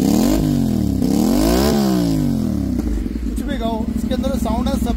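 An Aprilia RS 457 motorcycle fitted with an Akrapovic exhaust revs up and drops repeatedly in close, loud sweeps, then settles into a rough, throbbing idle with sharp blips of the throttle.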